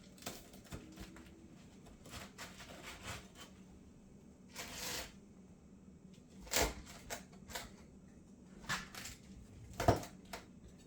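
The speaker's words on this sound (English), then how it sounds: "And I just cut it." A regular knife cuts through a cauliflower-crust pizza, making faint scraping and crunching sounds with several sharp taps as the blade hits the board beneath, spread irregularly over about eleven seconds.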